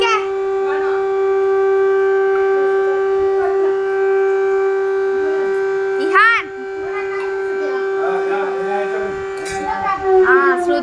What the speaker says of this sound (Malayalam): വീഡിയോയിലും സൈറൻ ഉള്ളതാണ്